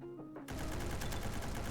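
M249 machine gun in Roblox firing a rapid sustained burst of dense, loud automatic gunfire that starts abruptly after a brief quieter moment and continues to the end.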